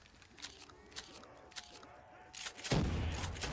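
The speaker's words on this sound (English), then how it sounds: "No, fucking grenade" A grenade goes off in Black Ops 3 Zombies, a sudden loud blast near the end that follows sporadic gunfire and brief speech.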